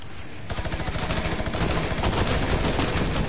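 A minigun in a shooter video game fires a rapid, unbroken stream of close, loud shots that starts abruptly and keeps going without pause.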